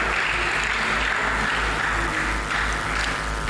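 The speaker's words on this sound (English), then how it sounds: "She deserves more applause." Audience applause at a tech entrepreneurship conference in Osun, a dense continuous wash of clapping from a large crowd with a low steady hum underneath, no talking.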